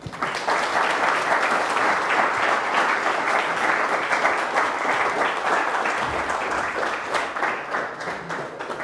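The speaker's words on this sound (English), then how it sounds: "en varm applåd för Kristoffer Bolling." A seated audience at a lecture event gives warm, sustained applause, a steady dense wash of clapping lasting several seconds at even loudness, with no speech over it.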